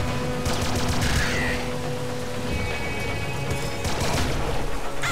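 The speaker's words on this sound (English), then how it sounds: "Oh my god, this laser rifle is so cool." A laser rifle in the video game Nuclear Throne fires in rapid bursts, a dense, loud crackling barrage that runs almost continuously with brief swells and small pauses, with no talk over it.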